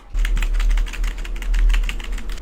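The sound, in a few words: keys being tested on a computer keyboard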